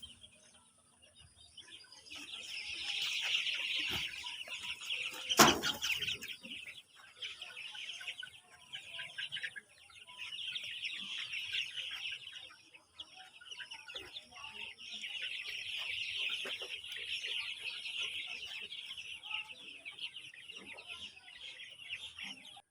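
Young chickens at a poultry farm cluck and chirp in a busy, continuous chorus of high calls with a brief loud knock partway through; a person speaks softly underneath.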